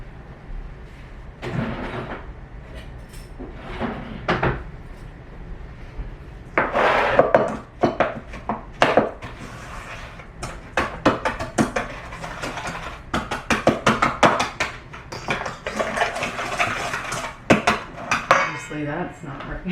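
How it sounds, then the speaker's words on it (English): Whisk clattering against a bowl while creaming frangipane mixture for a tiny pear tart, a run of quick, close scraping and clinking strokes that grows busier and louder after the first few seconds, with no talking. "Now I'm gonna mix this together,"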